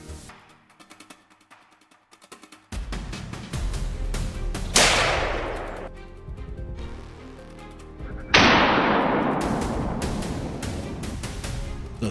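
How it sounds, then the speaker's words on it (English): Sharp gunshots from a wild boar hunt crack out, each leaving a long, rolling echo that fades slowly, with scattered smaller pops and clicks between the two big reports. "the familiar sound of gunfire echoes from other ambush points"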